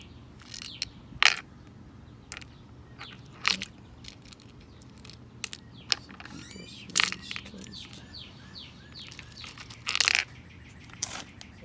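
Wrench torquing a replacement AC compressor on a 2007 Toyota Camry Hybrid: sharp metallic clicks and ratcheting ticks in scattered bursts, close, with faint birdsong behind.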